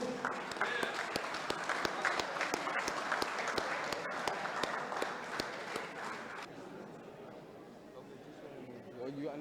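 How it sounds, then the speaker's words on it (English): An audience at a youth cricket tournament media launch applauds the captains, with a burst of clapping and crowd chatter that fades after about six seconds into murmuring voices, moderately distant. "Let's give them a round of applause."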